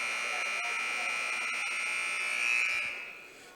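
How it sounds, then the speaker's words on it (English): A long substitution buzzer in a high school boys basketball gym sounds as one steady, loud electronic tone lasting about three seconds, with faint crowd murmur beneath it. "And a very long buzzer on the substitution for Ben Barton."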